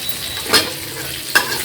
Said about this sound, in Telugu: పోపు వేగింది. ఉల్లిపాయ ముక్కలు వేసేస్తాను.